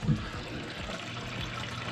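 Water rushing through a newly replaced inlet valve on a GE refrigerator, a steady close hiss and trickle that runs without pause, with a brief louder spurt at the start.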